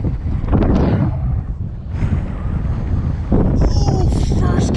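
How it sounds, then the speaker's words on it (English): Strong gusts buffet an outdoor microphone on a lake shore, a dense low roar that swells and eases in waves and never lets up across the whole stretch. "the wind is so strong"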